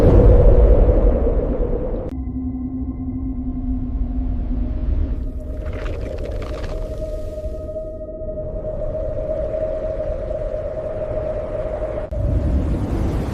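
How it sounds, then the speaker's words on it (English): A deep-sea underwater recording of the unexplained Bloop: long, low droning tones that slide and shift over a rumbling ocean background, with a brief crackly burst in the middle, all heard alone. "This was the sound they called the bloop."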